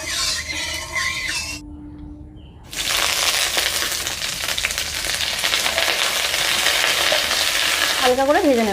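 Cauliflower florets dropped into hot mustard oil in a wok, a loud hiss that erupts after a brief quiet and settles into continuous close sizzling and frying, with a stirring scrape near the end.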